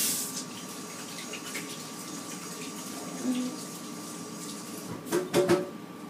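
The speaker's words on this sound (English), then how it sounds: "I'll rinse off my hands real quick." Tap water runs into a kitchen sink as hands are rinsed, a steady soft gush close by, with a few louder splashes near the end.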